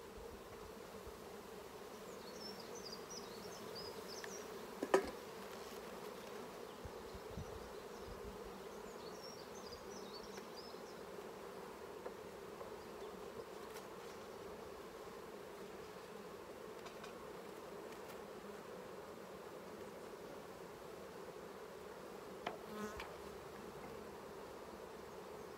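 Honeybees hum steadily around an open hive during an inspection while the queen is tended and brood fills the frames, a low continuous drone with a few sharp knocks from handling the frames.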